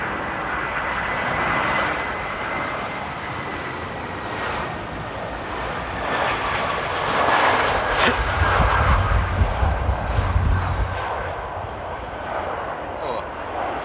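A fixed-wing airliner on approach to Amsterdam airport in stormy weather gives a loud, sustained engine roar that swells as it nears, with wind noise and talk over it.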